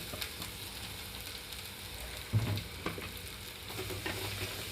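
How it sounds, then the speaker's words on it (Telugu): Inch-sized pieces of bottle gourd fry in hot oil in a pan with a steady, even sizzle and faint crackle, briefly stirred once partway through. "ఆయిల్ కొంచెం హీట్ అయిన తర్వాత ఇందులోకి పొట్లకాయ ముక్కలు వేసుకొని వేయించుకుంటున్నానండి"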